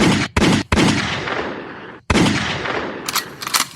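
Loud gunshot sound effects burst out in dense, rapid volleys like automatic gunfire, with a brief gap before another long rattling stretch and some sharper cracks near the end.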